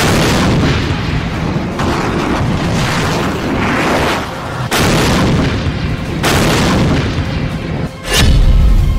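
HIMARS rocket launcher fire and artillery explosions rumble as a dense, continuous roar of booms, with a few sharper bursts and a heavy blast near the end.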